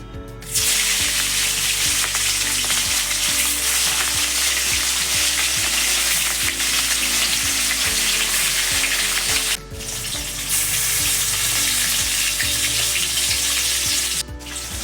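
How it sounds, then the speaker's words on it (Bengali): Rui fish fries in hot oil, a loud, steady sizzle with crackling spatters that runs almost the whole time, with two brief dips, and no voices. "তেল গরম হয়ে গেছে মাছ ভেজে নিচ্ছি"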